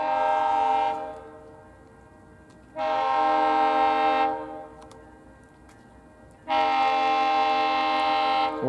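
GO Transit train E3775 passing through St. Marys on an equipment move back to Kitchener, sounding loud repeated horn blasts: three long tonal blows separated by pauses, close and dominant over a low rumble of the passing train.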